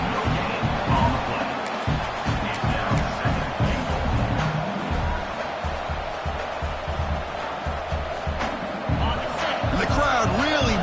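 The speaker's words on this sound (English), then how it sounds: "the crowd really making some noise now, trying to help out this defense" A football stadium crowd roars steadily during a Vanderbilt goal-line stand on first and goal, a dense sustained wall of noise with scattered shouts and a commentator talking over it throughout.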